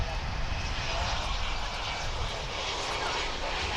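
Boeing 777 jet airliner at DFW International Airport, a loud, broad, continuous roar of jet engines filling the whole moment without break.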